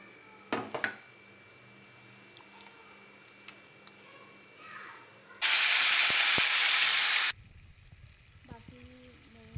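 Chicken pieces dropped into hot oil give a sudden loud burst of sizzling that lasts about two seconds and then cuts off. Quiet kitchen noise comes before it, and a voice speaks afterward.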